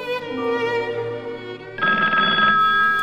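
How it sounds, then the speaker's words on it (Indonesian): An indoor telephone rings loudly and alone, its bell tone repeating steadily across the stretch, with a brief shift in timbre near the end. "Tiba-tiba telepon berdering."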